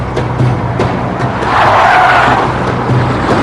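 Tires skid and squeal on a car being driven hard during a chase, a loud sustained screech that swells in the middle over a steady engine roar, with no talking.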